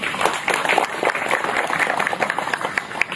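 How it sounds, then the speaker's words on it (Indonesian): Applause from an audience at a formal speech event in West Java where the governor is being welcomed, a steady dense patter of clapping lasting throughout. "tepuk tangan tukang Deddy Mulyadi"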